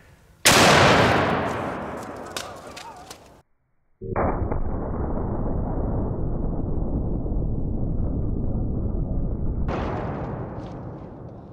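A double-barrel elephant rifle chambered in .500 Nitro Express fires a loud, booming shot at close range, its blast ringing out before a brief quiet, followed by a long roaring rumble and a second sharp burst near the end.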